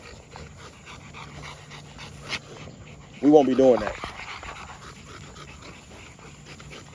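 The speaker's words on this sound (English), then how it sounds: "I'm gonna water these dogs off. Just so they don't have to, you know, really force themselves to cool down." Dogs pant outdoors while being hosed down to cool off, a short whiny vocal burst rising midway, all under someone talking close by.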